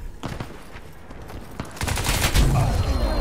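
Rapid automatic gunfire from the video game Crysis 2, a dense burst of close, loud shots with scattered single reports before the firing intensifies.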